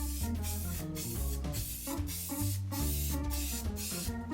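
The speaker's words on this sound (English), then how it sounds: "I'm using spray glue here. I found this Loctite stuff that should work." Loctite spray glue is sprayed onto foam for a helmet template, a faint airy hiss in short repeated bursts over quiet background music.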